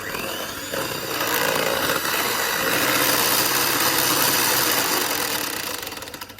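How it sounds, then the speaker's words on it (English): An electric mixer whisks chocolate chip loaf cake batter made with cacao powder and ground almonds, a continuous whirring drone that starts up, runs steadily and winds down at the end, with no talk. "So I'll whisk this again."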